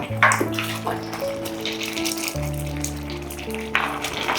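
Carrot halwa cooks in a pan as ghee is added, giving a soft continuous sizzle and bubbling hiss with a few sharper spits, under steady tonal background sound.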